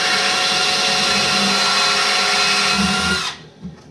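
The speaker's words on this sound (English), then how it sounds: "With the drill bit, that's guaranteed not to crack the acrylic." A power drill bores a hole through acrylic with a commercial drill bit, a loud, steady high-pitched whine that holds for about three seconds and then cuts off abruptly, leaving faint handling noise.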